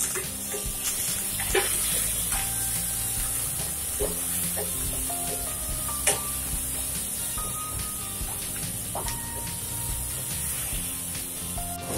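Tomato frying in a pan of softened onions for a coconut-thickened Kerala fish curry, a steady low sizzle with faint clinks of stirring running throughout, no talking.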